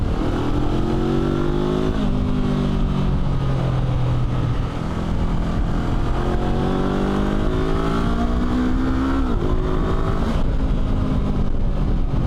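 Lightweight adventure motorcycle engine revving up and dropping through gears while downshifting, loud and close with rising and falling pitch sweeps over constant wind and road roar.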